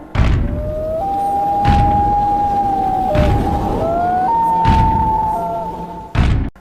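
A loud wailing siren drones steadily with pitch shifts, punctuated by several heavy thuds and booms, no talking.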